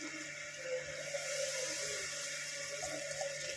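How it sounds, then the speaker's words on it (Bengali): Water goes into a pan of turmeric with a soft, steady splashing trickle, faint and close, lasting a few seconds with no talk. "হলুদ দিয়ে আমি একটু জল দেব"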